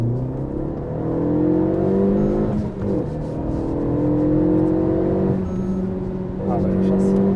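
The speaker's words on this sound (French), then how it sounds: "j'ai à peine le pied sur l'accélérateur que la voiture, elle veut y aller" Renault Megane 3 RS Trophy engine heard from inside the car, a smooth rising drone of revs building through gears with brief dips between pulls, steady and close, as someone talks over it.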